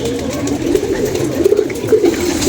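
Pigeons coo in soft, repeated throaty phrases close by, several overlapping calls rolling on continuously over a low background murmur.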